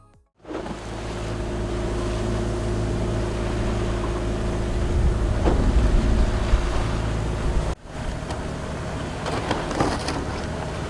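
Sailing boat motoring under engine at sea, giving a steady low engine drone with wind and water rush all around, loud and continuous after a quiet start, with a brief dip near the end.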